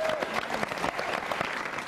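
A TV studio audience claps for a guitar band, a dense, steady wash of applause that fills the whole short stretch, with a brief voice at the start.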